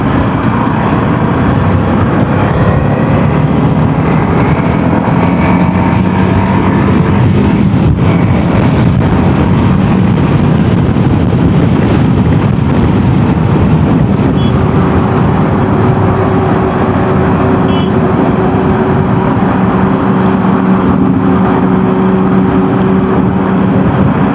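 A TVS RTX 300 motorcycle is ridden on a highway: a steady engine drone mixed with heavy wind rush over the microphone, loud and continuous throughout, with no talking.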